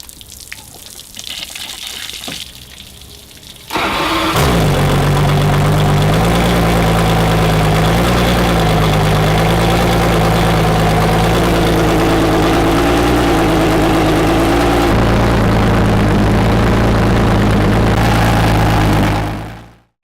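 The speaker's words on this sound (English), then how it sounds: "You must turn the hose on before you start the engine." An outboard boat engine running on flushing muffs with a hose attached is cranked and catches after some splashing water, then settles into a loud, steady idle.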